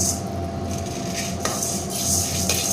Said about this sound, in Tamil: நல்லா வறுபட்டுருச்சுங்க